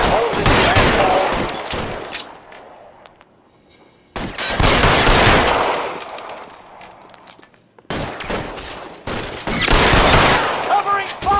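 Heavy bursts of gunfire in the video game L.A. Noire, three long loud volleys of rapid shots separated by brief lulls, with shouting voices mixed in.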